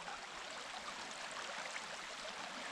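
A creek swollen with snowmelt and rain flows steadily, a soft, even rushing and babbling wash of water heard alone at low level, with no voices.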